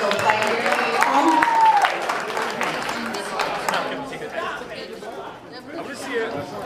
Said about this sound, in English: So can I have applause for her?